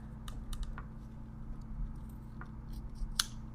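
Scissors cutting pickleball paddle grip tape, a few quiet, brief snips and crisp clicks spaced irregularly over a low steady hum.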